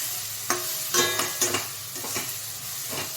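Spices for a chickpea curry fry in a pan, a steady sizzle broken by several distinct stirring scrapes and clinks in an uneven rhythm, close and moderately loud.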